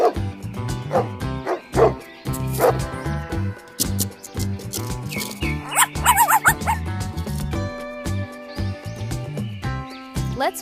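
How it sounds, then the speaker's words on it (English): Puppies bark and yip in quick, uneven bursts on a toy farm, fairly close and loud, with whimpers and soft rubbing or scraping noises mixed in between the barks. "Dogs!"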